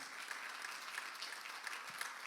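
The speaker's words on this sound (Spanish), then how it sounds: "démosle un aplauso al Señor" A church congregation claps together, a soft, steady patter of many hands with no voices over it.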